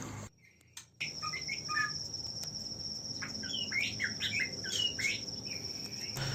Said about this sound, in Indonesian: kelihatan betina ini sudah mulai bunyi-bunyi ya, manggil jantan